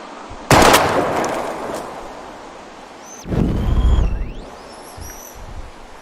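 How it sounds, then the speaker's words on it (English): Gunshots fired at bottles in the video game Life is Strange Remastered: a sharp loud shot early, then a second blast later with ringing, whistling tones trailing off, no talk. "We're gonna shoot all these bottles without wasting a single bullet."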